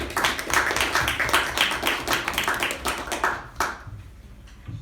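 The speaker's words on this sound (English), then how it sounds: "a big round of applause to the speaker and the evaluator." A small group claps at a Toastmasters meeting, close and lively for a few seconds before thinning out and stopping.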